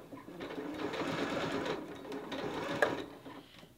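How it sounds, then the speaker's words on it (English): Sewing machine running a zigzag stitch across a coiled rope bowl, a continuous close whir with fast needle ticking that stays steady for a few seconds before slowing at the end. "I'm going to keep my zigzag stitch, and I'm just going to go all the way across the circle"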